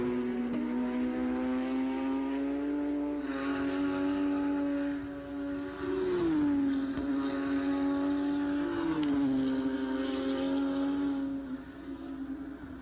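Porsche GT3 Cup race cars circuit Canadian Tire Motorsport Park during a race, a loud sustained engine drone holding high revs, dipping twice as gears shift, then easing and fading at the end.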